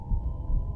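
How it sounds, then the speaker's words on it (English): Heartbeat sound in the horror video game Port of Call, a low muffled throbbing pulse under a steady hum, brief and fairly loud. "I hear heartbeats."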